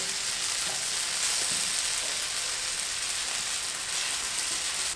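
Potatoes fry in a pan with a steady, dense sizzle that stays loud and even throughout, with occasional faint stirring touches and no voices.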